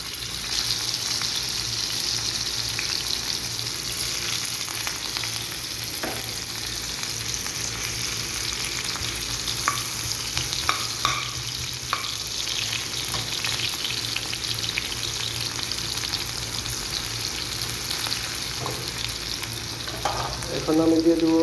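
Chopped onion fries in overheated oil, a dense, steady hiss that stays loud and close throughout, with occasional faint scrapes and taps of a spoon and a clatter near the end.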